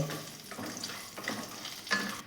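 Lentil dumplings (bori) frying in mustard oil in a home kitchen, a soft, continuous sizzle with occasional stirring scrapes and a faint clink, heard close and quiet with no talking.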